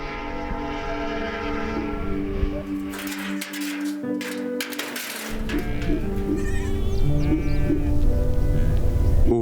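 Sheep bleating around a fold on the Tibetan high plateau by a lakeside herding village at early morning, repeated calls from several animals at close range over a steady low rumble, growing louder toward the end.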